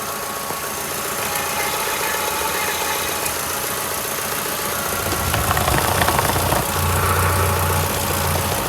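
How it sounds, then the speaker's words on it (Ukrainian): A Skoda Octavia engine idles steadily with an even, low mechanical hum and faint ticking, its tone shifting slightly partway through. "двигун працює класно, рівненько"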